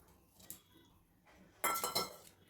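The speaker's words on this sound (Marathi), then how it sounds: "आणि ढळून घेऊया सगळं असं मिक्स, हलवून घेऊया चांगलं" A spoon clinks and scrapes in a cooking pot as boiled, sautéed potatoes are stirred into dum aloo gravy, one light knock followed by a louder cluster of metallic scrapes, close and otherwise quiet.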